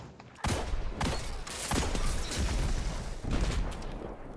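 A hand cannon fires during an Iron Banner match in the game Destiny. Loud, dense shots and blasts follow one another rapidly with barely a pause throughout.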